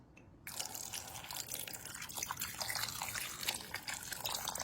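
Lychee shells being rinsed by hand in a bowl of clean water, giving steady close sloshing and dripping with soft crunchy shell rustles throughout, no talking.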